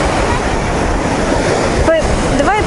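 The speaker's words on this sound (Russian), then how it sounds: "Море сегодня волнуется" Choppy surf washing onto a beach on the Azov Sea, a continuous rushing wash with wind buffeting the microphone and brief voices near the end.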